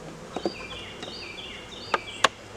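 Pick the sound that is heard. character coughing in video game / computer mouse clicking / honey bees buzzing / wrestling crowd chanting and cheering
honey bees buzzing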